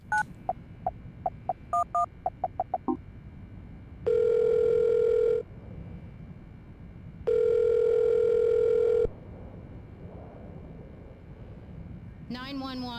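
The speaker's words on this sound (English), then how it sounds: "We can dial a phone number." Phone dialing in the video game Silent Hill: Shattered Memories: a quick run of short keypad beeps, then two long steady ringback tones separated by a pause, followed by a voice near the end.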